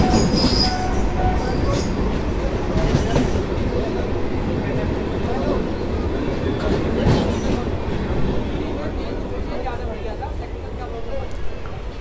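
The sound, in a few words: train passing through without stopping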